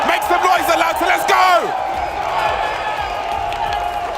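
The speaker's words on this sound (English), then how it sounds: "Make some noise, Atlanta." A large crowd cheers, whoops and roars at a Counter-Strike esports tournament in Atlanta, a loud sustained swell that peaks early and then settles into a steady arena din.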